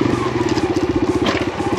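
A Kawasaki KLX140RF dirt bike engine chugs loudly and close in a fast, even pulsing beat, held at steady revs during wheelie practice on a trail.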